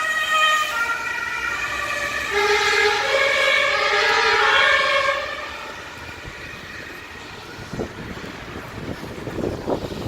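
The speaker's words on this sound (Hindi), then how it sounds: "अब ये देखो, ये जा रही है एम्बुलेंस, हर चीज़ उसको रास्ता दे जा रही है।" An ambulance siren passes along a city street in Germany, its wailing tones loud for several seconds and then cutting off, leaving street noise and scattered clatter with no talking.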